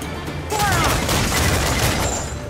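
A pirate ship's cannons fire a dense, rolling volley during an Assassin's Creed Black Flag naval battle, loud booms blurring into a sustained roar with faint shouting mixed in.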